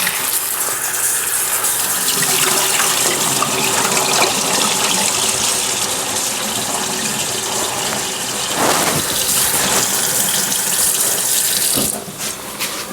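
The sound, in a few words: tap water running while washing butter beans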